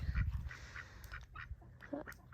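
Several ducks quack in a new 8 by 10 foot walk-in coop, a run of short nasal calls close by, with fowl shuffling and low rustling underneath.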